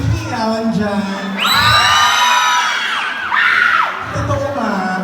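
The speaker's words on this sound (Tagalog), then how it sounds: "Wala po bang hiyawan dyan?" A comedy gay pageant crowd cheers, whoops and shouts loudly in a continuous rising roar, with a host's voice talking over the start and end.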